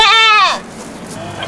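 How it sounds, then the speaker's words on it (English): A goat bleats loudly and close by on an Egyptian farm, a single wavering call about half a second long, followed by quieter background farmyard noise. "We have goats and camels."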